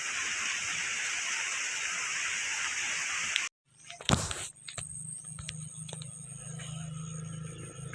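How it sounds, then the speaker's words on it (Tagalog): Steady rain pours outdoors as a loud, dense hiss, then cuts off abruptly. Quieter sounds follow, with a sharp knock and faint intermittent clatter. "mag-ulan"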